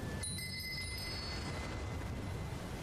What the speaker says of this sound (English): They've got little chimes on the ground!